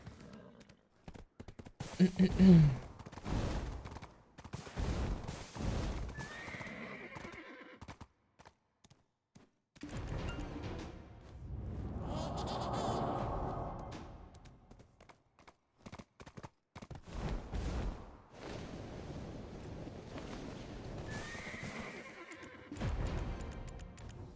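A horse whinnies loudly several times amid hoof clops and other sound effects in the video game Black Desert Online, with a voice talking at moments.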